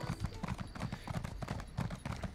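Rhythmic clip-clop of horse hooves in ESO: Summerset, a steady trotting beat of close, moderately loud footfalls with no talk over it.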